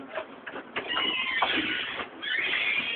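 A cat gives a series of drawn-out meows and cries. The sound is close but muffled and thin, like a phone recording.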